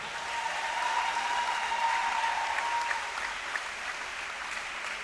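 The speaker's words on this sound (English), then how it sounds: "Let's give a round of applause for Carly Brown." An audience at a high school volleyball senior recognition claps for a player, a steady wash of applause lasting several seconds that softens slightly toward the end, with a faint tone and murmur in the hall.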